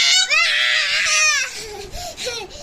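Small children still young enough to drink milk wail and scream loudly at close range, with a long sustained high-pitched cry followed by shorter whimpering sobs.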